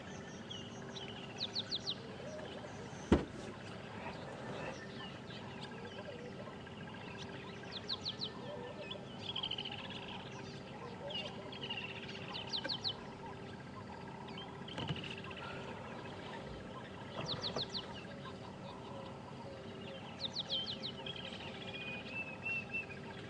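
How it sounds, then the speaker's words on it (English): Faint high peeping calls from goose goslings come in short bursts every few seconds over steady outdoor background noise on a safari drive, with a single sharp knock partway through. "healthy goose goslings"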